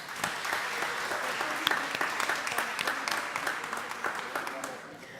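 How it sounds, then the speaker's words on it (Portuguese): Audience at a public hearing in the Juiz de Fora city council chamber applauds the students of the Sarandira school and their teacher, sustained even clapping from many hands throughout, fairly close. "uma salva de palmas para eles"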